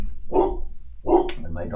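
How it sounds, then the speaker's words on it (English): A dog barks twice close by, two short sharp yaps about a second apart, heard indoors while someone plays a PanzerBlitz board game. "my dog's making noise"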